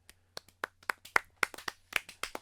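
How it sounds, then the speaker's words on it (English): A few people clapping hands close by, about a dozen sharp, uneven claps that pick up pace over two seconds, fairly quiet and isolated with no talking. "Round of applause."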